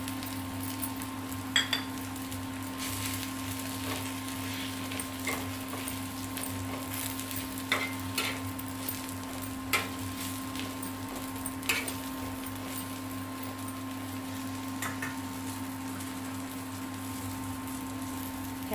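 Golden-brown onion and freshly grated coconut frying in a pan for a Maharashtrian rassa vada curry, a steady close sizzle running throughout with occasional light metallic clinks of a utensil.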